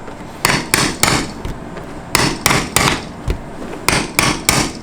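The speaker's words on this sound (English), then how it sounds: "Could you hit it with the hammer? I sure will." Hammer repeatedly striking and shattering homemade cotton candy and tie-dye hard candy, sharp loud cracks in quick irregular pairs and bursts, each hit crisp and close with small clattering shards between.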